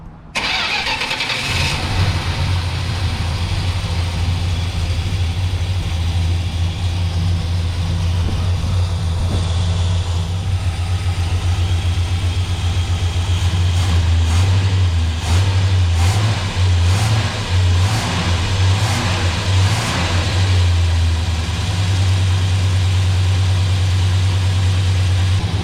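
A Dodge Sweptline pickup truck engine cranks, catches and settles into a loud, steady idle up close, with a low rumbling drone throughout and a few brief revs and uneven pulses partway through.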